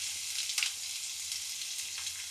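Chopped onion and asafoetida sizzle in hot oil for a Gujarati kaju gathiya curry, a steady, close hiss with a brief clattering stir near the start.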